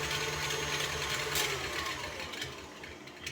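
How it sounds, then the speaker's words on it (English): Electric hand mixer whisking two sticks of butter in a bowl for cake batter, a steady mechanical whir running continuously and fairly close, with no talking. "And we gotta whisk it first."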